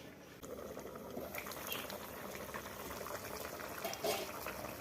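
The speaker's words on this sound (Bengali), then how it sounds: "ভালো করে হিঞ্চেটা সেদ্ধ হোক সবজির সঙ্গে" Helencha greens simmering with vegetables in a pot, a faint soft bubbling and watery churn at close range, low and steady with a few small splashes.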